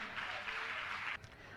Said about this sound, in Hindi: जोरदार ताली बजाकर इनका सम्मान करें।